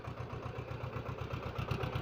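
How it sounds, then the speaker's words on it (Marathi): A tractor engine idles beside a wheat field, a steady, rhythmic low chugging that runs loud and close throughout with no voices. "ट्रॅक्टर पण आलेला आहे"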